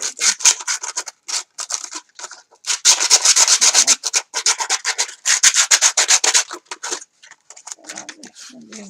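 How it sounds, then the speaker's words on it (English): Sandpaper rubbing the inside of a wooden box in quick back-and-forth strokes, close and fairly loud, in bursts with short pauses between. "I'm just going to sand the box inside a bit"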